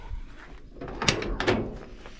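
The door of a 1955 Chevrolet 6100 truck under restoration is worked open and shut, giving two soft clunks and rattles close by against a quiet background.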